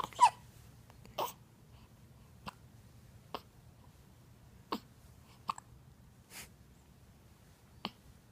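A baby's hiccups, a series of short, sharp, soft hiccups spaced a second or so apart in a quiet room, close and fairly faint, with no talk.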